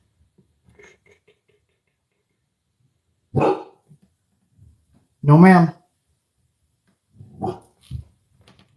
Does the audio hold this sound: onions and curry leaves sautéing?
no